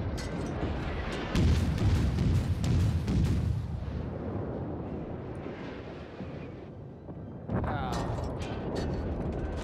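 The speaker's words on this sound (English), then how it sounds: "Blind firing over a mountain, that's great." Naval guns in World of Warships fire blind over a mountain, giving deep rumbling booms that swell and roll on, with a second heavy burst near the end.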